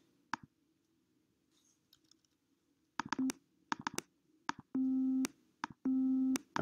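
Short synthesized tones beep on and off in an uneven pattern, steady pitched buzzes separated by soft clicks, alone and fairly close.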